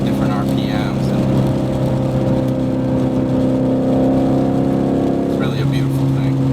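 2011-2014 Ford Mustang GT with BORLA exhaust revving, a deep droning engine tone held steady with brief rises in pitch near the start and end, close and loud, with faint voices underneath.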